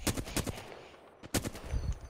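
Apex Legends gunfire rattles off in two quick bursts of rapid shots, loud and punchy, with a brief lull between them and no voices.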